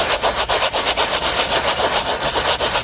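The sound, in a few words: gently scrubbing spots on car seat upholstery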